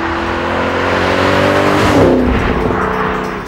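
A Shelby Mustang GT500 convertible's V8 roars as it accelerates, a loud, rising engine note that builds toward a peak and then eases off, heard alone without talk.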